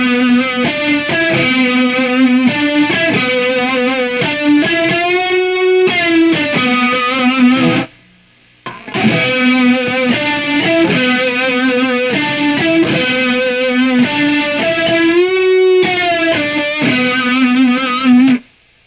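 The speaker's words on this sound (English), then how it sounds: "Here on riff 14, we're going to buckets of distortion." An electric guitar tuned down a half step, drenched in heavy distortion with few mids, chugs through a loud, repeating riff that breaks off briefly midway before resuming.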